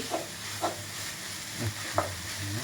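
A spatula scrapes and clacks against a wok four times at uneven intervals over a soft, steady sizzle of vegetarian stir-fried holy basil (pad kaprao jay) frying.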